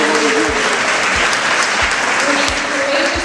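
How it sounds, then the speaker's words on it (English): Warm audience applause for doctors and surviving patients, a dense steady roar of many hands filling the room, with faint voices underneath. "Can we please give a warm round of applause for all of our great doctors"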